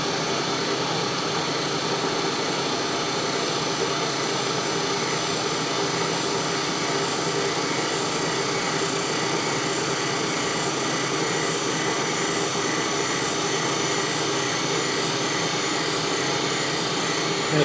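A grinding machine works metal to a very fine finish, throwing sparks as the end turns cylindrical; a loud, steady whine and rush hold constant throughout with no pauses and no talk.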